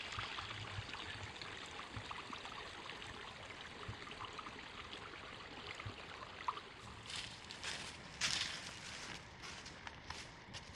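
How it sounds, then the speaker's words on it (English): A small stream at a trail crossing gurgles and trickles steadily, nearby and moderately loud, with a few rustles and footstep-like scuffs toward the end and no voices. "I forgot about this little stream crossing."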